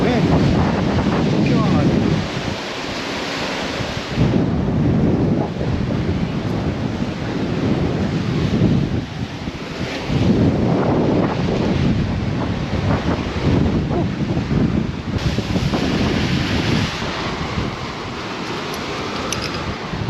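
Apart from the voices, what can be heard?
strong wind at the seashore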